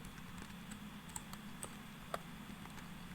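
Soft, quiet keystrokes on a computer keyboard as a git diff command is typed, irregular individual taps spread over a few seconds with no talking.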